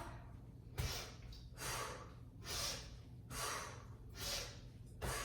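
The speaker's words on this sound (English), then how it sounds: "You can add inhale through the nose and exhale through the mouth." Rhythmic breathing during a yoga flow, with inhales through the nose and exhales through the mouth. About five breath cycles come at a slow, even pace, each a close, airy rush, with no talking.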